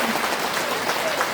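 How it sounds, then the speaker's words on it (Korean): A crowd at an outdoor citizens' talk concert at Miryang's Daegongwon main stage gives a short burst of applause, dense clapping with a voice faintly mixed in. "박수 한번 보내주세요."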